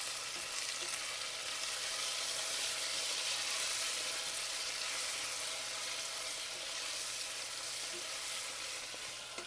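Cilantro fries in a pan after the onion, a constant loud sizzle that holds steady and then fades a little near the end. No talk.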